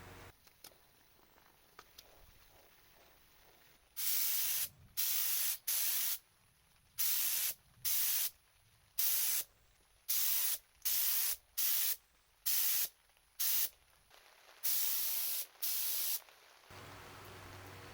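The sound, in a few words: spray gun painting RC plane fuselage with blue paint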